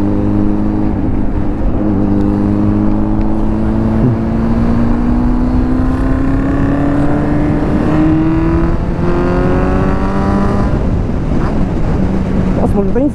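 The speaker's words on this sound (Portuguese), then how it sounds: "a moto tá em sexta já" A Honda CG motorcycle fitted with a Hornet engine and 2-into-1 exhaust drones steadily at high speed in sixth gear on a highway, its pitch slowly climbing, with wind rushing past throughout.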